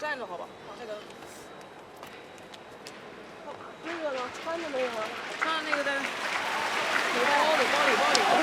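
Crowd at a badminton match in a large arena applauding as an injured player gets back up, with steady clapping swelling louder toward the end and a commentator talking over it.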